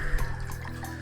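Water sloshing and swirling briefly in a container, a close, continuous liquid churn with no voices.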